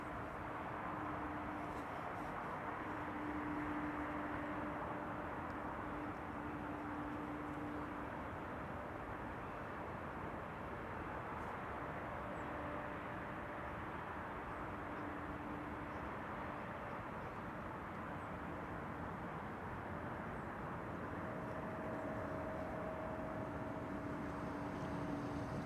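Airliners on parallel approach to Amsterdam Schiphol Airport, a steady distant jet roar and rumble holding at an even level for the whole stretch, with no voices.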